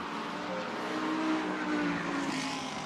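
A GT World Challenge race car accelerating at Brands Hatch, its engine whining steadily upward in pitch at a moderate distance, a sustained racing drone with a faint secondary tone and no voices over it.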